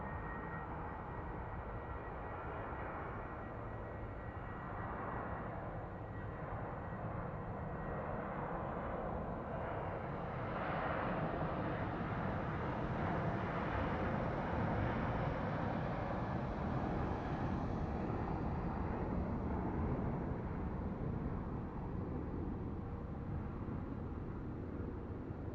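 Frontier airliner at Phoenix Sky Harbor airport at night, a continuous broadband jet engine roar that swells gradually and holds steady for the whole stretch, with no talk.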